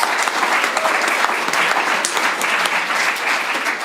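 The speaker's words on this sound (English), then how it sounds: "Let's give a big round of applause." A theater audience at a musical comedy show breaks into a big, sustained round of applause, loud and dense from start to finish with no talk over it.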